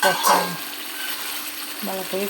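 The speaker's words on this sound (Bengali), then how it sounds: "বন্ধুরা মশলাগুলোর ভিতরে ভালো করে এগুলোরে কষাইতেছি" Chicken feet and liver being stir-fried with spices: a steady sizzle and hiss, with short tonal voice-like sounds at the start and end.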